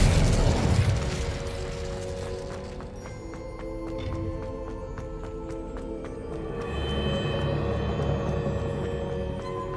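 Spell-casting bursts and explosive booms from Hogwarts Legacy open loud, then give way to lighter magical pops and a mechanical, musical game backdrop.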